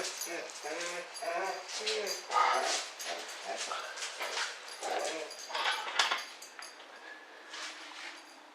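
A dog yips and whimpers excitedly in quick bursts, fairly close, with scattered high whines and a few short barks over several seconds.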